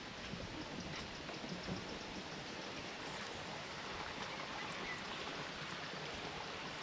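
Steady rain pours down at a fishery, a constant broadband hiss of drops on surfaces and water, even and unbroken throughout with no voices.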